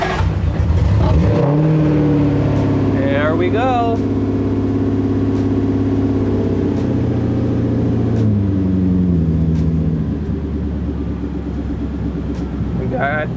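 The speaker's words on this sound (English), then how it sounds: "I'm gonna start the car. We're gonna see what happens." A car engine, fixed after being too corroded to crank, starts and settles into a steady idle, loud and close, with someone speaking briefly over it.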